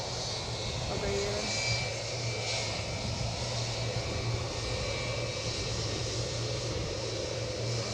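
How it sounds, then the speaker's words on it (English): A Cessna 425 twin turboprop at Edinburgh Airport, a steady engine drone with a low humming tone, heard at moderate distance while people talk faintly in the background. "That'll be the Cessna 425, I think."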